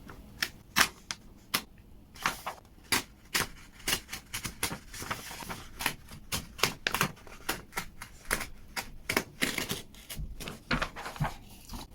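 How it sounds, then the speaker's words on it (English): A page torn out of a journal gives a close, fairly loud run of sharp crackling rips and snaps, uneven in rhythm and spread over several seconds, with no one talking. "Oh my goodness, I ripped it properly."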